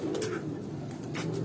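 A pigeon cooing close by, soft throaty repeated coos in a steady rolling rhythm, with no voices.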